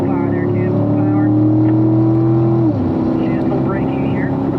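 Corvette engine pulling hard at full power on a race track, a loud steady in-car drone climbing in pitch, then dropping sharply at an upshift before building again, with a driving instructor talking over it.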